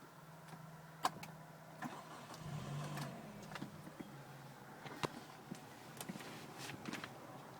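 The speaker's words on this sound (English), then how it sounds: "It's a 5-speed manual, and I'll just start it up." A 2008 Hyundai S3 coupe with a five-speed manual fires up inside a quiet cabin, a faint starter crank and low idle settling under scattered clicks and small knocks.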